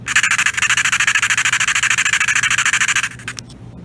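Bachmann 2-10-4 Texas model locomotive motor running flat out, a loud, steady high-pitched electric whine with a rapid buzzing pulse, cutting off near the end with a few faint clicks.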